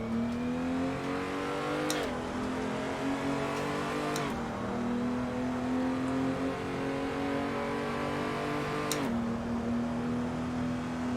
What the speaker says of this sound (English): I love the sound of the transmission crackling through the exhaust when you downshift the overrun